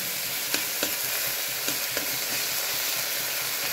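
Spice paste frying in oil, sizzling continuously while a spoon scrapes and stirs it in the pan, with a few soft clinks of the spoon against the metal, close and steady with no voices.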